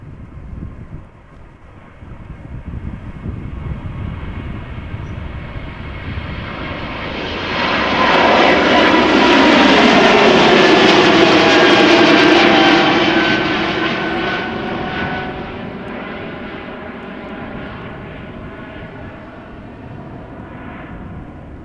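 An airliner with geared turbofan engines passes by at Schiphol, its roar rising over several seconds to a broad, sustained whoosh at its peak before gradually fading away, with no talk.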